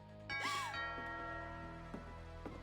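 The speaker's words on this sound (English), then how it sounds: "Doorbell." A doorbell chimes inside the video game What Remains of Edith Finch, a single two-tone ding-dong ringing out clearly over a low steady ambient hum, followed by a couple of faint knocks or taps.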